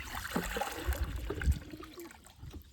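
A bucket fills with water from a tap or hose, a soft trickling, splashing flow that runs steadily and fairly close for a few seconds, with low thumps and no clear voices.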